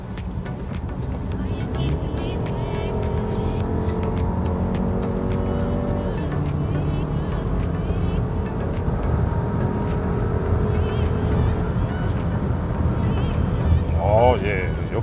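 Volkswagen Tiguan Allspace front-wheel-drive SUV with a new gasoline powertrain accelerating on the road, engine note rising steadily inside the cabin with tire and road noise beneath.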